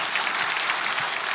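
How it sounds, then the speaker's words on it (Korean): An audience applauds steadily at a Christian political gathering in Korea, a dense, even wash of many hands clapping that holds at constant loudness throughout, with no voices rising above it. "박수하겠습니다."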